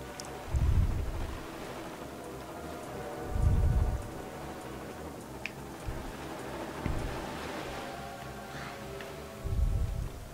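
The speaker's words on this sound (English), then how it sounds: "Oh, now it's freaking raining again." Rain falls steadily in the video game Wind Waker HD as a soft, continuous wash, with a few low rumbling swells rising and fading through it and no voices.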